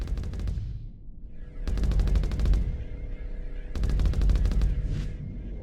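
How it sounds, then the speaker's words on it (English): Tactical lasers fire during a space battle in the Starsector video game, in three bursts of rapid, buzzing pulsed shots separated by short pauses, loud and close with no speech. "Why are the tactical lasers firing?"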